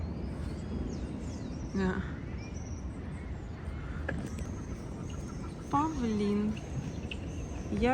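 Loud parrot squawks in a tropical street setting in Rio de Janeiro, a few harsh calls rising above steady background noise and distant chirping.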